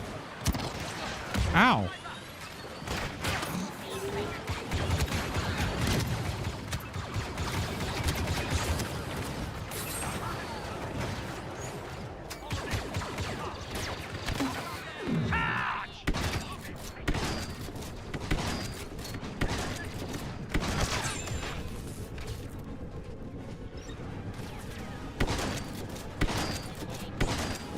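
Scattered blaster and gun fire in Star Wars Battlefront II, irregular shots and impacts over a busy battle background, with people talking over the action.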